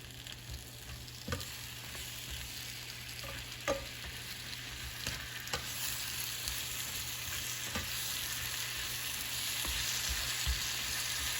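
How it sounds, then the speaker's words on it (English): Snow peas with spices and garlic sizzle steadily in an oiled frying pan while being stirred, with a constant close frying hiss broken by occasional clinks and scrapes of the utensil. "let's now stir it until it's all combined and evenly coated with oil."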